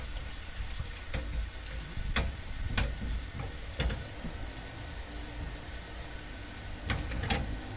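Garlic frying in a pan with coriander added for a molokhia tasha, a steady close sizzle broken by sharp crackling pops and stirring clicks, no talk.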